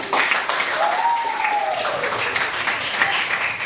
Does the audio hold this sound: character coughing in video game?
no